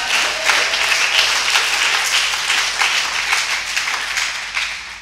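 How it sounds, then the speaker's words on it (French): A church congregation applauds during a worship service, the clapping loud, dense and steady for the whole stretch with no voices standing out. "On peut applaudir le Seigneur puissamment."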